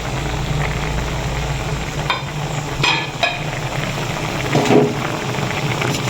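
A spoon stirs squash and shrimp stew in coconut milk in a pot, making a close, soft scraping and bubbling simmer with a few louder clinks and splashes over a steady background.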